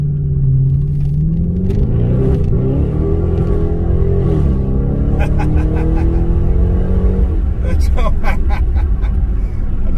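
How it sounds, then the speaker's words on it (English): Dodge Charger Scat Pack widebody with its stock muffler in place, engine rumbling loud and steady with pitch rising and falling through revs, some sharper crackles near the end. "this car still sounds good without without having a muffler delete"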